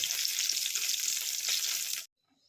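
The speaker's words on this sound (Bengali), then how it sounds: "বেগুন ভাজা প্রায় হয়ে গেছে" Loud, steady sizzling of eggplant frying in an iron wok, close up, then it cuts off abruptly into near silence.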